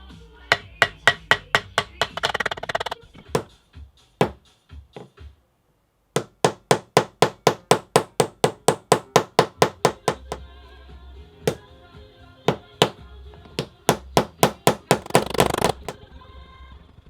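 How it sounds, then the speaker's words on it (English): Fret wire hammered into a ukulele bass neck with a mallet, rapid runs of sharp close taps in quick rhythmic bursts with short pauses between, loud and distinct. "hammered the fret wire in place, working from the edges to the center and hitting them with a mallet"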